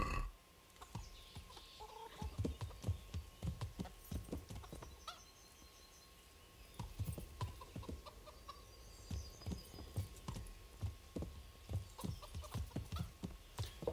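Horse hooves clip-clop steadily in Kingdom Come: Deliverance, an even trotting rhythm near and clear, with clucking chickens and a whinny around the castle grounds.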